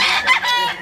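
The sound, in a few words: rooster crowing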